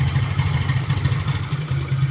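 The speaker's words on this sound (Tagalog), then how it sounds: "Pag walang battery, ang andar niya ay ganito." A Suzuki Smash motorcycle engine runs without a battery, short of electrical supply. A loud, close, low idling throb pulses and dips unevenly, with no voices.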